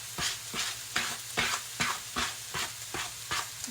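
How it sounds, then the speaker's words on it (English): Peppers and onions sizzle and crackle in a frying pan, with a steady frying hiss broken by a series of regular stirring or scraping bursts about every half second, close and moderately loud. "And then now I'm going to toss in peppers and onions."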